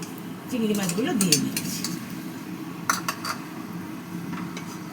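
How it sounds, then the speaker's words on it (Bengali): Fried prawns are tipped into a cooking pan and stirred, making spoon-on-metal scrapes and clinks over a soft sizzle, with a voice heard briefly. "এই যে চিংড়ি মাছগুলো যে ভেজেছিলাম ওই চিংড়ি মাছগুলো দিয়ে দিচ্ছি"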